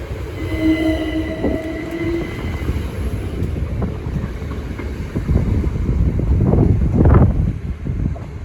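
A Class 387 electric train passes through Cambridge station, a steady rolling rumble with wheel noise and a brief high squeal early on, swelling louder near the end as the cars go by close.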